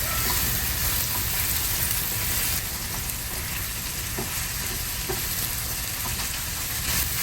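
Meat filling for Chinese won ton and yuk sung fries in a pan, a dense, continuous sizzle with scattered crackles heard alone at close range.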